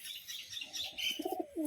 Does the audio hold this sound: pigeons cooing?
yes